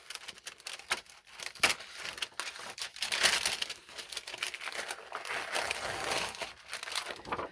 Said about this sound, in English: take your tissue paper or thin paper and use masking tape to get it down nice and flat on a piece of copier paper